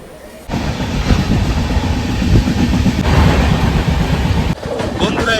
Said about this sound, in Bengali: ট্রেন ঢুকছে জলপাইগুড়ি রোড